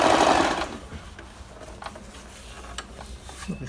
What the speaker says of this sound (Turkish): Onun için boş kumaşta bir makineyi çalıştırın.